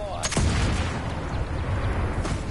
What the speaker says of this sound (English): Fire! Fire! Firing cannons?